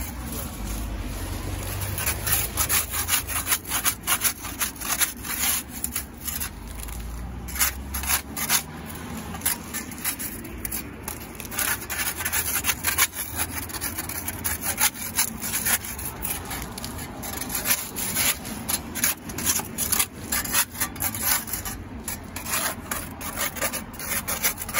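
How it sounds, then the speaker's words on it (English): An old, not-sharp handsaw scrapes ivy off a brick wall in steady, rapid rasping strokes, close and continuous throughout, with some low rumble underneath. "just an old handsaw, doesn't have to be sharp"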